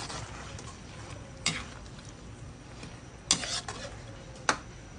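A spoon stirs chicken hamonado in a cooking pot, a few sharp scraping clinks against the metal spaced irregularly over a soft simmering background, close and moderately quiet, no speech.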